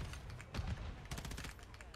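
Rapid, loud gunfire bursts in a hardcore Kill Confirmed match on the Shipment map of a shooter video game, close and dense, with a voice talking over the shots.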